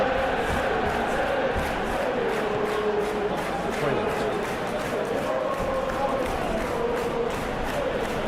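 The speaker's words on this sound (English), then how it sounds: "Well, the crowd clearly like what they just saw." Stadium crowd in the PES 2021 football video game roars and cheers steadily throughout, a dense, continuous wall of fan noise with chanting swells and no break.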